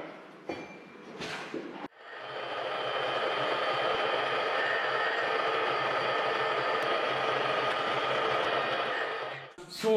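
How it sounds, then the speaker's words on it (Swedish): A power drill runs steadily for about eight seconds while a hose reel is being mounted, a loud, even whine close by that starts after a brief pause and stops near the end. "Då går vi borra."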